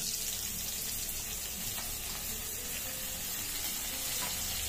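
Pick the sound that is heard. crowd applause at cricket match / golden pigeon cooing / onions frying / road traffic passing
onions frying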